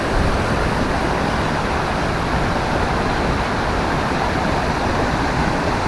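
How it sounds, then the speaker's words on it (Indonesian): A strong, heavy flow of water at the Uma Anyar waterfall makes a loud, steady, unbroken roar of rushing and falling water that fills the whole stretch. No voices are heard. "debit air dari Umo Anyar Waterfall ini sangat keras"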